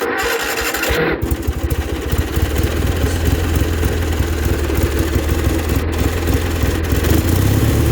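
A 1967 Cub Cadet 71 garden tractor engine idles steadily and close by, a fast even putter running without a break after a brief rougher start.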